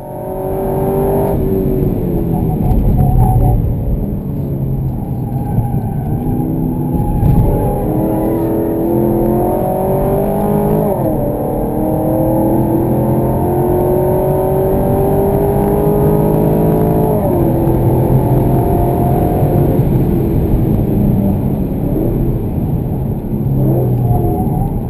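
A car laps the Wakefield Park race track, recorded from inside as the engine climbs and drops through repeated gear changes, loud and continuous for the whole run.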